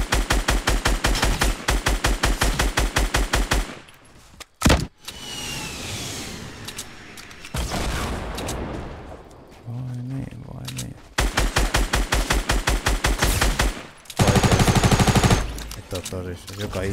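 Rapid automatic gunfire from a video game rattles in loud, tightly spaced bursts, pausing for quieter shuffling and a few sharp single shots before the sustained firing resumes.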